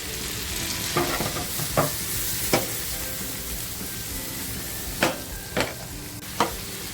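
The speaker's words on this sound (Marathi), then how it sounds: "कांदा बघा साधारणसा लाल झाल्यानंतर टॅमॅटो टाकतीये" Tomatoes tip into onions frying in a pan on a tawa, a steady close sizzle broken by several sharp scrapes and clacks of a stirring spoon against the metal.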